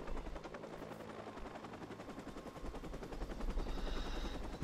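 A helicopter in the Watch Dogs video game keeps up a loud, steady rotor chop, a rapid continuous thumping that stays constant throughout.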